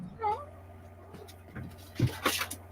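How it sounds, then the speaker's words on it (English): A pet cat meows close by and scrabbles and thumps against a window in a few quick bursts, and a person speaks briefly. "My cat's fighting with the window."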